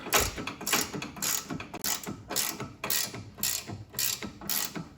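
A ratchet wrench turns a front control arm mount bolt on a Ford Mustang, clicking in quick repeated strokes at close range, each burst of ratcheting followed by a short pause before the next pull.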